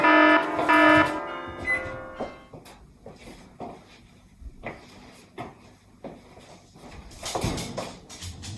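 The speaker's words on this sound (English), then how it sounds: "and I'm setting 3 different timers." Kitchen timers go off for baked cookies with a loud, tonal electronic beeping in the opening seconds, followed by scattered knocks, clatter and handling noises.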